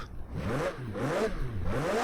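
A 2019 McLaren Speedtail engine in Forza Horizon 4 climbs and falls in pitch through repeated quick revs, smooth and synthetic-sounding, with no talk.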